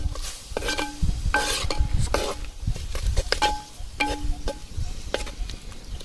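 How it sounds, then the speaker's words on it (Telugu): Chicken with coriander and mint is stirred in a pot for kunda chicken, a spoon repeatedly scraping and clinking against the metal at close range over a low, steady cooking sizzle, with no talking. "ఇదండి కొత్తిమీర పుదీనా బాగా వేసుకొని కదిలించుకోవాలా"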